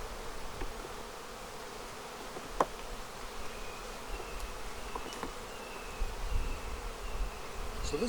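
Honeybees buzz steadily around a hive with hive beetles, a faint continuous drone outdoors with scattered nearby wingbeats passing close and a few small clicks.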